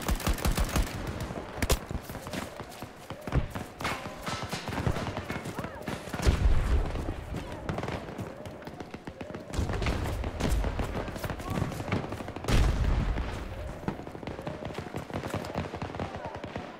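Battlefield 2042 rush match with near-constant gunfire, rapid automatic bursts and single shots from close and far, mixed with heavier thuds and a voice talking over the action.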